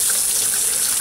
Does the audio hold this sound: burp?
no